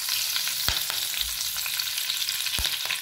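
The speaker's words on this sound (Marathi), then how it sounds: "कढीपत्ता चांगला तडतडला की आपल्याला टाकायचा आहे लसूण।" Curry leaves crackle in hot oil while cooking pithla, a continuous hissing sizzle with two or three sharp spitting pops standing out, close and fairly loud, with no talking.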